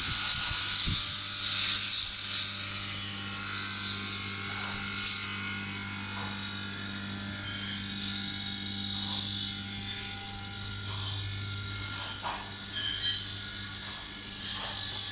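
A vacuum pump evacuates the air-conditioning system of a 2016 Hyundai Tucson that uses R-134a refrigerant, giving a steady low mechanical hum with a rattling buzz and occasional clicks and knocks nearby. No one speaks.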